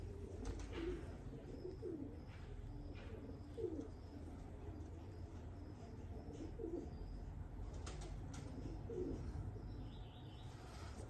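Female flying pigeon, a racing bird, cooing in soft repeated calls with faint wing flaps, heard at a moderate distance over steady low background rumble and hiss.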